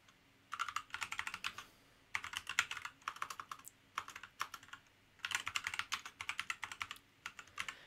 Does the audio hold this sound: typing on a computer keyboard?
yes